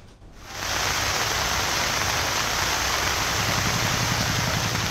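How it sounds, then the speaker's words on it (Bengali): Heavy monsoon rain falls as a steady, broadband wash of noise that starts after a brief quiet moment and stays even and loud throughout. "কখনো মুষলধারে, কখনো হালকা ঝিরিঝিরি বৃষ্টি, মাঝে মধ্যে ভারী বর্ষণ"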